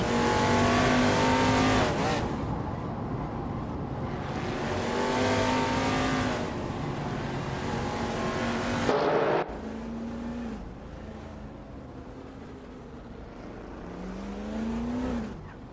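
Race cars in a video game racing event roar past in a close pack, engines loud and continuous with rising and falling pitch as cars overtake, shifting gears partway through; no talk over it.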